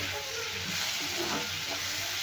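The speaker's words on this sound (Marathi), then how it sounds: "तर आपला कांदा आणि टोमॅटो पण छान तेलामध्ये फ्राय झालेला आहे सॉरी तुपामध्ये" Onion and tomato fry in ghee in a pan, giving a soft, steady sizzle and hiss without any break.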